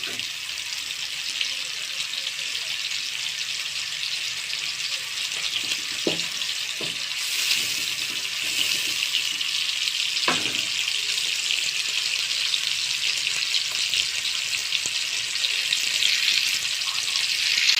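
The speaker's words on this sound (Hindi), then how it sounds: "अब इसको भुनाई करेंगे प्याज़ों की।" Sliced onions fry in a pan for a mixed-vegetable aloo matar gajar curry, a steady loud sizzle broken by a few clinks of stirring, with no talk.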